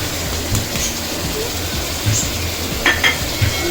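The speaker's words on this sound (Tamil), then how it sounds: "இப்போ நல்லா அதை கிளறி விட்டுருவோம்" Vegetables with tomato and turmeric are stirred in a pan for egg noodles, giving a steady low sizzle with a few scraping stir strokes and clinks, close up, with no voices.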